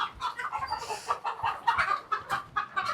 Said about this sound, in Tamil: பார்த்தீங்கன்னா கோழியெல்லாம் பாருங்கள், நல்லா வெடை கோழி.